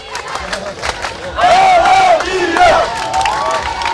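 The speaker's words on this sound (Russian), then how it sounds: "Тамерлана Гузарова приветствуют громкими аплодисментами" A crowd at the Mashuk 2015 youth forum greets the republic's leader with loud clapping and cheers, swelling midway into a dense, close roar of shouts and whoops that stays strong to the end.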